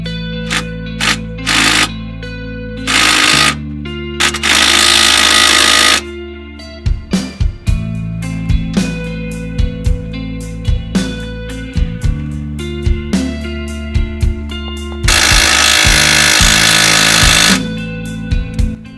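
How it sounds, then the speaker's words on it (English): An impact drill whirs in repeated loud bursts, short revs and a few longer sustained runs, with mechanical clunks between them, while working on a Miata's suspension. "I finally bought an impact drill."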